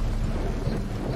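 Rain and distant thunder in the Red Dead Redemption 2 video game: a steady, dense wash of rainfall with a low rumbling undertone, continuous and even throughout, with no talking.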